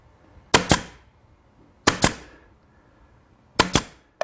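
A staple gun fastens upholstery fabric onto a window bench with three loud, sharp double cracks. Each pair of shots lands close together, and about a second and a half of quiet separates each pair.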